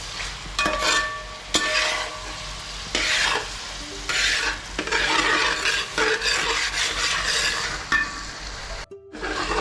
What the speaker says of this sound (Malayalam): ചില്ലി ചിക്കനുള്ള ക്യാപ്സിക്കം, സവോള, പച്ചമുളക്, ഇഞ്ചി, വെളുത്തുള്ളി എല്ലാം വഴറ്റി ആവശ്യമുള്ള ഉപ്പിട്ട് കൊടുത്ത് വഴറ്റി